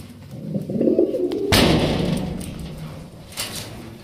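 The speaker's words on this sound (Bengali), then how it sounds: "এখানে রয়েছে চমৎকার একজোড়া শৌখিন কবুতর, হোয়াইট কালারের শৌখিন কবুতর" A pair of large white fancy pigeons coos close by, with soft low throaty calls rising and falling in brief bursts, followed by a rustling thump.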